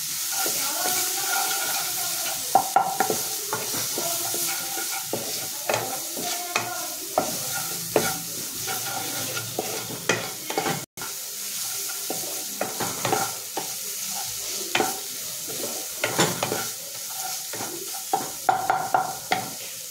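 Onions sautéing with salt and a little Kashmiri chilli in a pan, a continuous sizzle and hiss marked by frequent scraping stirs and clicks of the spatula, with one brief break in the sound.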